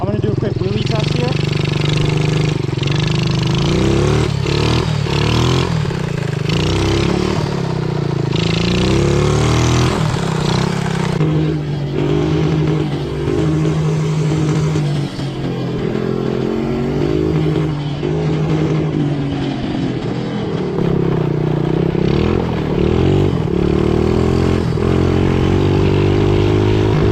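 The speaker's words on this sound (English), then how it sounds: "I'm gonna do a quick wheelie test here." Motorcycle engine running on Red Bull in place of oil, revving hard and steadily through a wheelie test outdoors, a loud, continuous rumble with rising and falling throttle and a voice speaking over it.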